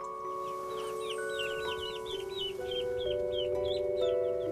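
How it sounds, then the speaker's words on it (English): On a Victorian-style farm, chickens cluck and murmur while high, rapid peeping from young ducklings and chicks repeats throughout, close by and continuous, with no talking. "We've got a nice little clutch of both chickens and ducks."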